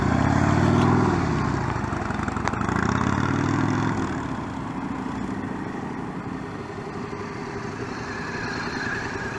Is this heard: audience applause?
no